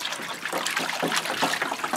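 Wetting agent solution drains off a darkroom photographic print as a brief, close trickle and dribble of liquid running off the paper.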